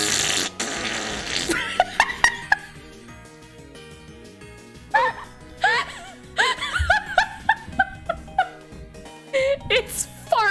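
A voice imitates a fart with repeated wet, buzzing mouth sounds in short bursts, mixed with snickering and laughter from people talking during a Pokémon fusion session.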